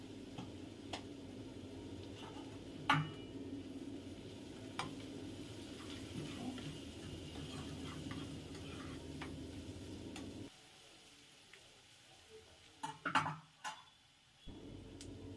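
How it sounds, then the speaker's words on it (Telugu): Sliced onions frying in a pan with a faint, steady sizzle and a few scattered clicks and taps, the frying sound dropping away sharply near the end, leaving a couple of louder knocks in quiet. "ఉల్లిపాయ వేగుతుంది"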